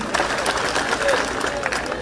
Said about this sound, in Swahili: Makofi kwake tena.